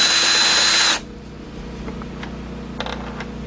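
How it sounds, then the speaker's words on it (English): A power drill fitted with a 10mm socket spins out a headlight bolt on a 2007 Volkswagen Passat 2.0, giving one loud, close, high-pitched whir that lasts about a second before cutting off into quiet workshop background. "Alright, I'm using my 10mm socket."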